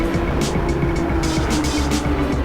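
GT3 race cars lapping Donington Park in the sim racing game Assetto Corsa, engines droning loud and steady with rising and falling revs as several cars pass close by.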